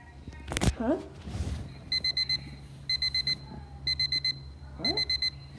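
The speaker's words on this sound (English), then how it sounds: "Why's your alarm clock here again?" A digital alarm clock rings in repeated bursts of four rapid high beeps, loud and close, after voices talk briefly at the start.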